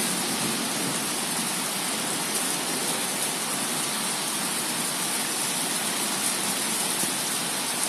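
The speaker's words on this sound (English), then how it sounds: "So it's pouring ass rain." Heavy pouring rain makes a dense, continuous hiss, loud and unbroken throughout, with no voices over it.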